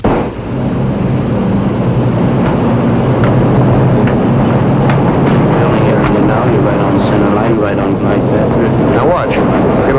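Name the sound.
airplane flying overhead on landing approach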